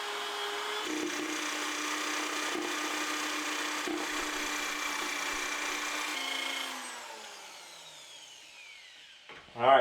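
Steady, continuous abrasive rubbing of sandpaper against a wooden bowl on a stopped lathe, turned by hand, fairly close, fading out toward the end before a brief louder knock.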